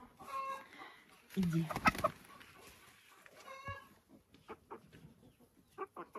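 Hens and a rooster in a backyard coop cluck and call in short, irregular bursts, fairly close, with a few louder squawks. A person speaks briefly among the birds.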